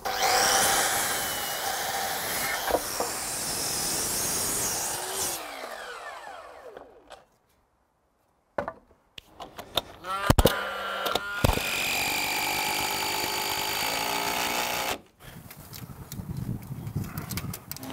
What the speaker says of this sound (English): Get a little chop saw.